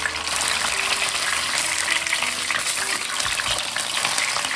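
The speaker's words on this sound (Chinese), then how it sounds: "再翻面继续煎另一面" A pork chop fries in a pan over medium-low heat with a loud, continuous crackling sizzle, close up and unbroken throughout.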